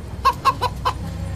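Hens clucking in a radio commercial for free-range eggs: four short, evenly spaced clucks ring out clearly and alone, then fade into quiet.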